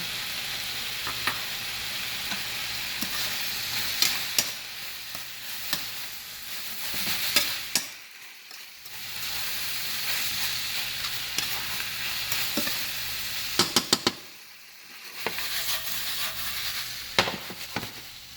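Garlic and ginger sizzle steadily in a hot pan for a stir-fried chicken dish, with occasional sharp scrapes and clacks of a utensil. The frying briefly drops away twice before returning loud and close.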